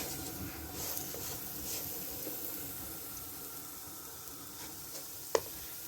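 Semolina halwa roasting in a pot gives a soft, steady sizzle while a spoon stirs it, with faint scraping and one sharp clink near the end.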